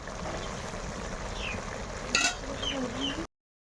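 Pangas fish curry with Malabar spinach cooking in a pan, a steady low simmering bubble and soft sizzle running continuously, with a brief clatter partway through and an outdoor rural hum behind it.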